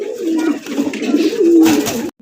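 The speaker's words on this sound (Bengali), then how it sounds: "এখানে রয়েছে আরো এক জোড়া কালারিং রাসগোল্লা কবুতর।" A pair of colored rasgolla pigeons coo loudly and close up in low, rolling warbles that swell and fade over a couple of seconds.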